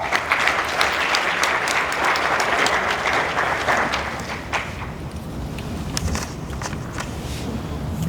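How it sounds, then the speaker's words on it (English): Loud, dense audience applause at an official orientation event fills the first half, then thins into scattered claps and room murmur as it dies down. "give her a round of applause"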